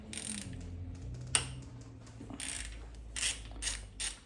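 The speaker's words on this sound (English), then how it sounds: "We need a Torx 50 and a wrench to break this one open." A wrench clicks and ratchets on a Torx 50 bolt on a 2022 BMW S1000 RR motorcycle, giving a few close, quiet metallic clicks and one sharper crack in a quiet workshop.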